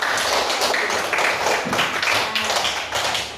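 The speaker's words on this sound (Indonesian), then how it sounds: "Mana tepuk tangannya?" A sixth-grade class claps together in dense, continuous applause, loud and close, with a few scattered voices.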